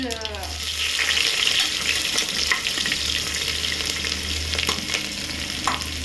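Onions frying in oil in a pan for a vegetable pulao, a steady loud sizzle with occasional stirring clatter throughout, no talking.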